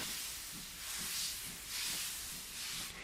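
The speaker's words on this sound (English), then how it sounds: "He just let off steam feebly." Gordon, a toy steam engine, lets off steam feebly in soft, steady hissing that swells gently in slow pulses, faint and without any voices.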